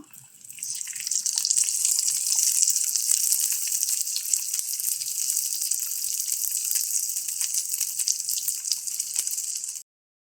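Rava dosa batter poured onto a hot pan with oil, a loud continuous hiss and sizzle holding steady for about nine seconds before cutting off abruptly, close and without speech.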